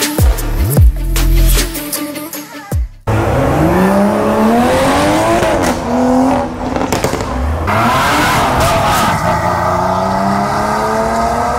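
Supercars launch hard at a Supercars Saturdays meet, engines revving and climbing through rising gear sweeps, one car after another, loud and close, with tire noise and crackles between pulls.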